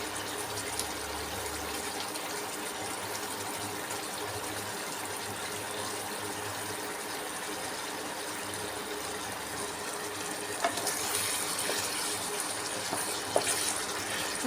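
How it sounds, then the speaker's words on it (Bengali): Water poured into a pot of browned goose meat curry, a steady rushing pour heard close and alone for most of the stretch, with a couple of faint clinks near the end. "এবার কিন্তু আমি ঝোলের পানি দিয়ে দেবো এর ভিতরে।"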